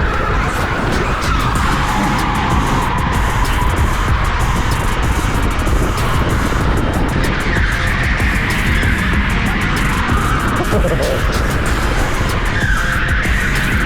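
A go-kart at TeamSport Eastleigh on a fast qualifying lap, its small engine droning loudly and continuously, pitch rising and falling through corners with tyre squeal, close and unbroken throughout.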